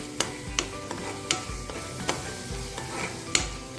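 Red chilli powder and spices fry in oil for a mutton curry, a low sizzle under repeated sharp scrapes and knocks of a spoon stirring the pan at an uneven rhythm, close by.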